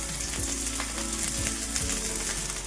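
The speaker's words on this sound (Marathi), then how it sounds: "तेल पण छान गरम झालंय मिरच्या टाकून घेऊया" Pieces of green chili hitting hot oil in a pan, a dense, loud crackling sizzle that holds steady throughout, heard close with no talking.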